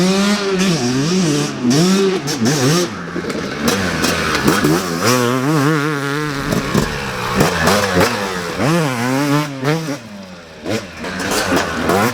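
A Yamaha YZ two-stroke dirt bike ridden on tight technical off-road terrain, its engine loud and close, revving up and down in repeated rising and falling bursts as the rider works the throttle through corners.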